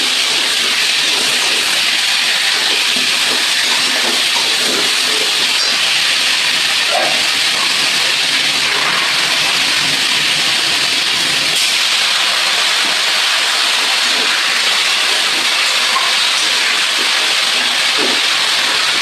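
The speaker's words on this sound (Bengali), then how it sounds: "নুন হলুদ আর আদা জিরে বাটার সঙ্গে কষিয়ে নিচ্ছি।" Spices sizzling in a pan as salt, turmeric and ginger-cumin paste are sautéed, a steady hissing fry with faint scraping, continuous and close throughout.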